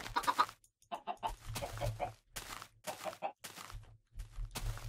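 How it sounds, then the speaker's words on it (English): A chicken in the Minecraft video game clucks in a series of short, choppy bursts separated by brief pauses, fairly close and clear with no talk over it. "let's go visit the chicken"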